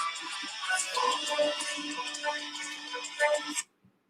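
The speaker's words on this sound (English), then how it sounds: "That's my ringtone." A phone ringtone plays a bright electronic melody of repeated tonal notes at moderate volume, going on for about three and a half seconds before cutting off abruptly into near silence, with no talking.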